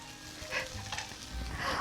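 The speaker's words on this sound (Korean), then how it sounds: "정성을 가지고 양파를 볶아줘요." Onions sautéing in a pan for a French-style beef tenderloin steak dish, giving a steady, close, soft sizzle with faint stirring scrapes and no talking.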